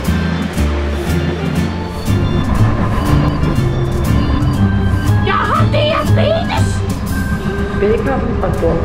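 A moving train rumbles and clatters steadily, with a voice making an onboard announcement over the running noise.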